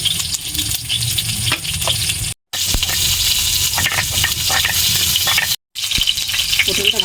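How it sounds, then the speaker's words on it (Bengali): Pointed gourd fries in hot oil in a pan with a loud, close, crackling sizzle that keeps going, cut by two brief silent gaps, with occasional stirring clatter and no talking. "এবার পটলটা ভেজে নেব।"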